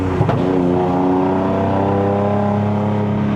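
A Lexus RC350 V6 snarls under load while driving, a loud close engine drone with a quick throttle blip at the start that settles into a steady rising hum.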